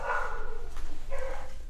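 A dog barks indoors in two short bursts, fairly loud and close, with a brief gap between them and no talking over it.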